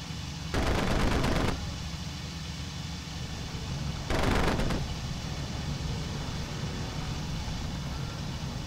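Machine gun fire aimed at a Bf 109 fighter in the flight simulator IL-2 Sturmovik: Cliffs of Dover comes as two loud, rapid bursts, about a second and half a second long, over a steady engine drone.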